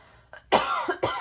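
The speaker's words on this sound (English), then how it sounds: "Every time I get on video, I cough" A person coughs several times in short, close bursts while crafting with ink pads and markers, the coughs loud and isolated with no other sound around them.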